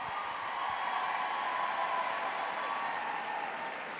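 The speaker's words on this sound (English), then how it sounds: "That deserves a big round of applause." An audience at a large Mary Kay seminar gives sustained applause, a dense even wash of clapping that holds steady throughout, heard from a distance in a big hall.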